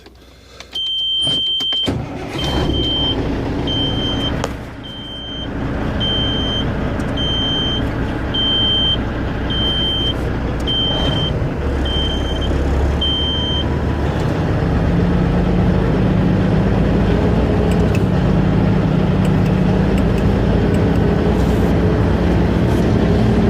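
A truck started up and left idling at about 1200 RPM to build air brake pressure before a pretrip brake check: a repeating warning beep over a steady engine rumble that deepens and grows louder after roughly fifteen seconds.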